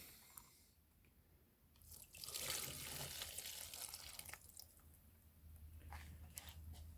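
Petrol tipped from a lawnmower fuel tank back into a blue container: a faint trickle builds into a steady splashing pour for a few seconds, then tapers to a thinner stream, quiet and without talk.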